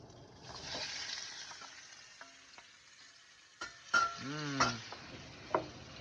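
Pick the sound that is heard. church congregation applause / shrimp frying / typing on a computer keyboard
shrimp frying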